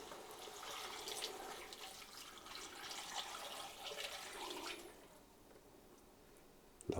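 Beef stock poured into a Ninja slow cooker, a soft, close splashing pour lasting a few seconds before it stops and the room falls quiet.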